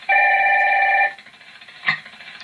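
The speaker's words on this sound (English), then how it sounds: "Ratchet's got a phone call." A single trilling telephone ring from the Ratchet & Clank video game sounds for about a second, loud and electronic, followed by a brief click and quiet hum.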